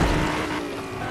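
A car in the video game Fortnite driving across water like a boat, a loud steady engine rumble mixed with rushing splashy water noise, continuous throughout.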